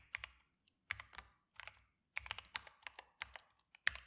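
Keystrokes on a non-programmer computer keyboard during a programming session, clattering in short bursts of rapid clicks separated by brief pauses, close and fairly quiet with no talking.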